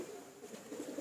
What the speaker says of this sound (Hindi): बहुत शानदार कबूतर हैं,